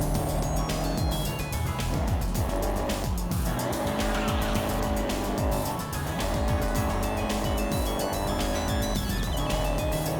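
A Cosworth racing car driven hard in Forza Horizon 6 on slick roads, its engine roaring continuously with shifting revs and repeated tire squeals and skids, loud and close.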